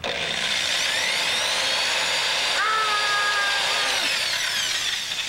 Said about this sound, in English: then you line them up and you drill them straight down.